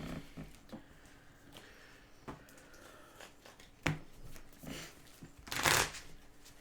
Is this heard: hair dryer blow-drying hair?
no